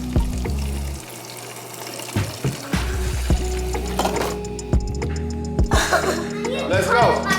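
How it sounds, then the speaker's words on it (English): Water bottles are filled at a tap during a hike at Crowders Mountain, with steady running water and clattering handling noises throughout, fairly close. "we're now filling up our water bottles."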